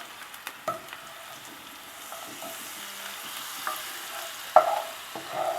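Bacon-wrapped filets with butter frying over low heat in a pan, a soft continuous sizzle broken by a few scraping stirs and occasional sharper pops, fairly quiet overall.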